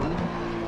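GT3 race cars accelerate in Assetto Corsa Competizione, giving a brief loud engine roar with a steady high tone that stays close and even throughout.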